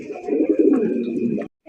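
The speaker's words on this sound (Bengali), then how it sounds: "এখানে রয়েছে একজন কালারিং রাসগোল্লা কবুতর" Rasgolla pigeon cooing steadily at close range, a continuous low throaty burble for over a second before breaking off.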